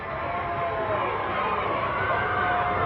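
A wrestling arena crowd roars and cheers in a dense, steady wall of noise that holds loud throughout.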